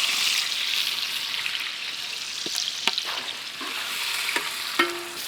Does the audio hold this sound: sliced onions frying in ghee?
yes